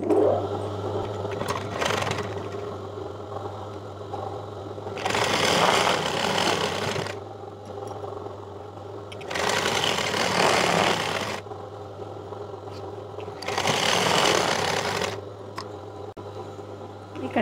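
Sewing machine stitching along a marked line on a Punjabi dress top with a square neck, running in three steady bursts of a few seconds each, separated by quieter pauses, over a constant low hum.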